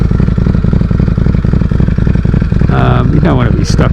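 A Ducati Streetfighter V4 motorcycle rides along a summer ocean road, its engine a loud, continuous pulsing rumble close by, with a short rising rev near the end.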